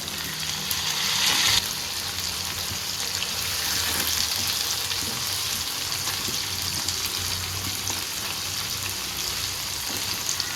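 Oil sizzles steadily in a pan while cooking Saoji chicken curry, giving a continuous bright, crackling hiss at close range with no voices over it.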